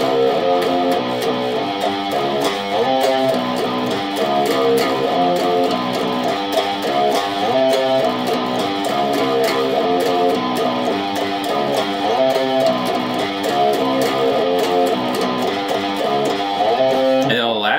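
An electric guitar plays a song riff slowly and evenly, notes ringing one after another at a relaxed pace, close and fairly loud.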